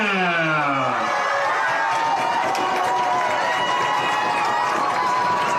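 A high school varsity football crowd cheers loudly on 4th down, a dense, continuous roar with shouting that swells and holds, heard at a distance throughout.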